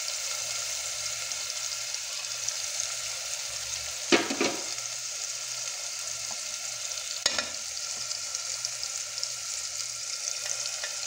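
Fish seasoned with spices, saffron and green herbs fries in a pan with a steady, close sizzle, broken twice by brief louder spatters as food is stirred or added. No one speaks.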